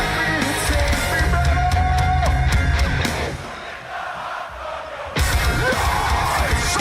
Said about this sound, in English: That was crowd interaction right there.